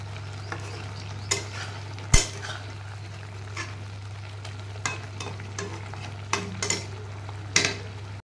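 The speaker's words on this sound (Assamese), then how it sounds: "গোটেইখিনি একেলগে ধুনীয়াকৈ লৰাই দিম" A spoon scrapes and stirs papad and potato curry in a pan, with scattered sharp clinks over a steady low hum, no talking.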